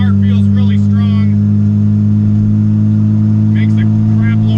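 A small-turbo Honda B16B engine in a right-hand-drive EG hatch runs on a dyno, a loud, steady droning hum with a strong low tone. Voices talk briefly over it at the start and near the end.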